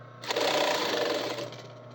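A sewing machine stitching fabric, a short close burst of rapid mechanical whirring that rises, holds and tapers off, with a low hum beneath and no talking.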